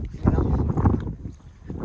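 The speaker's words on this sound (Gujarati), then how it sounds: "પવન જ એટલો છે ઠંડી લાગે છે" Strong wind buffets the microphone in loud, low rumbling gusts, easing briefly before surging again.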